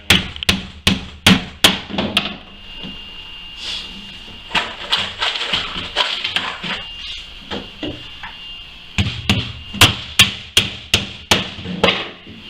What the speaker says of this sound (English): Make sure all my corners are nailed down.